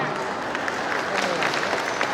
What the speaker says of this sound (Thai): ขอเสียงปรบมือให้กับคุณต่อนะครับ